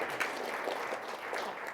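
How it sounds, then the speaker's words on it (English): A keynote audience at a conference gives a dense, steady round of applause, loud and continuous for under two seconds before cutting off abruptly, with no talk. "everyone give a round of applause for helping me out and being part of this"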